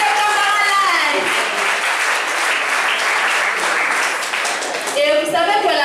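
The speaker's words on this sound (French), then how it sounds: "On applaudit une fois de plus pour les abeilles de Camara Life." A school audience at a journalism-in-schools awards event applauds, a loud, sustained wash of clapping with voices and whistles rising over it near the start and again at the end.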